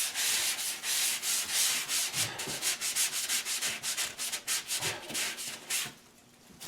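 Rhythmic back-and-forth sanding strokes during a kitchen remodel, close and clear, each pass a raspy scrape with short pauses between, tapering off near the end.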